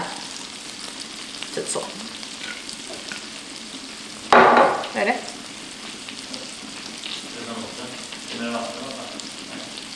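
Chicken frying in a pan gives a steady sizzle through the whole stretch, with a louder stir or clatter midway, while a person speaks briefly over it.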